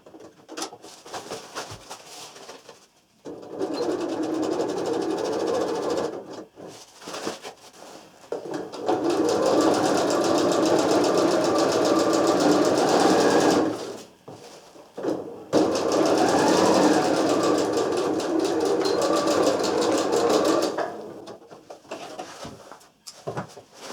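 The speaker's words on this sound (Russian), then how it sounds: "совмещаем их и сшиваем донышко" A sewing machine stitches the bottom of a travel bag in several long, steady whirring runs separated by short pauses, close and fairly loud.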